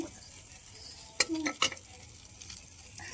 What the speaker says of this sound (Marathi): सर्व फोडणी टाकली